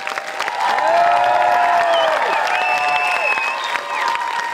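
A loud high school holiday concert crowd at Great Neck North HS cheering and applauding, a sustained roar with whistles and whoops over continuous clapping.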